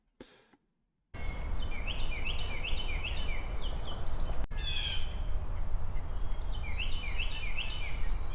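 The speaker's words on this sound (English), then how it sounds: "Blue jay." A blue jay calls in a series of harsh repeated notes in two bouts, clear and fairly close over a steady background hiss, after a brief quiet start.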